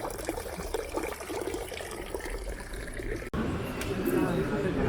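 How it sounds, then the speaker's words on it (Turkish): Water pours and splashes steadily in the Trevi Fountain in Rome, a constant outdoor rush heard close up with people talking over it. "Su, su sesi geliyor."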